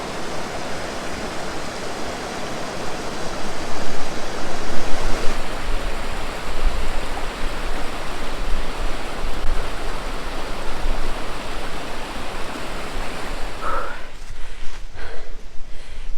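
Small waterfall on a creek in Shenandoah National Park, heard as a steady broadband rush of falling water that holds constant and fairly close throughout, with faint outdoor handling noise near the end.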